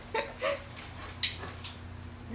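A dog lets out a few short, high whimpers and yips, quiet and close, separated by brief pauses.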